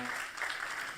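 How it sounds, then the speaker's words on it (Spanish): An audience at a church service applauds, a brief, even patter of many hands clapping at moderate volume. "denle un aplauso al Señor"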